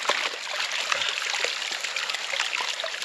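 Water sloshes and trickles steadily as gravel is washed in a gold pan at a river or creek, a close, continuous splashing with no voices.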